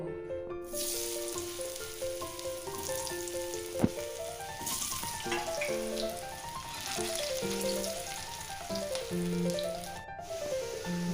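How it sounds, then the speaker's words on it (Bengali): Potatoes frying in hot oil, a steady crackling sizzle running throughout, with a musical melody playing over it and one sharp knock partway through. "এরপর আমি আলুটা ভেজে নেব"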